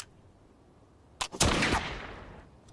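A single loud gunshot from a historic hammer-action firearm fired at a target 10 metres away, a sharp crack with a brief initial snap followed by a booming blast that rings out and decays over about a second, with no talking.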